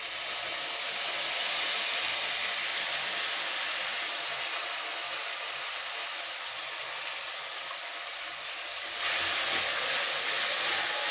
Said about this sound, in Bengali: যেটা ভালো করে কষে নেবো।